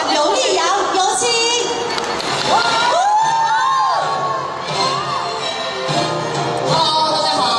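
A live promotional event audience cheers and claps loudly to welcome a singer onto the stage, a dense, continuous roar of the nearby crowd with high-pitched shrieks and whoops rising and falling throughout.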